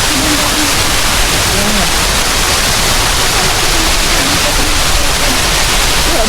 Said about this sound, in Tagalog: Nigop yung tubig.